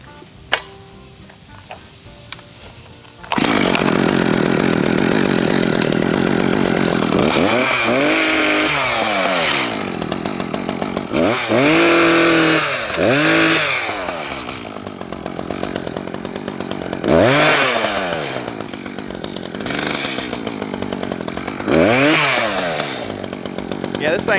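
A chainsaw cuts through a briar near a leaning tree, starting abruptly after a quiet moment and running loud and steady, with repeated revving swells and dips as the blade bites through the wood.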